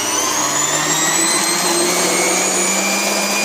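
A loud, steady motor whir from a food processor shredding cheese at low speed, running continuously with a high whine and no pauses.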